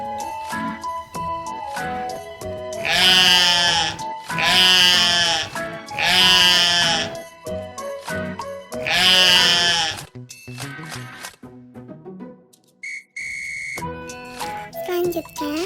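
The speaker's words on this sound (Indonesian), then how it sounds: "Gimanakah suara kambing?" A goat bleats several times in long, loud, wavering cries with short gaps between them, then gives way to quieter animated-style tones and a brief electronic beep.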